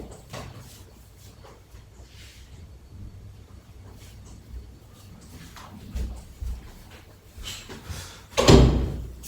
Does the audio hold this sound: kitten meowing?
no